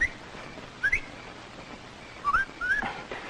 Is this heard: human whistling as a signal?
yes